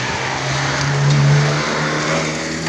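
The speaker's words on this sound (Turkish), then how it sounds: "Tecrübeye çıkıyorlar böyle var ya bağır bağır bağırtıyorlar arabaları" A car engine revs hard during a test drive near an auto repair district, one loud sustained rev that swells and then settles over a steady roar, with no talking.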